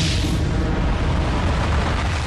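A massive explosion standing in for the Big Bang: a dense, loud, continuous roar and rumble that fills the whole stretch without any break or quiet fade.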